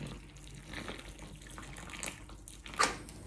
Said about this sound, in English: I'm just gonna add water about 1 inch above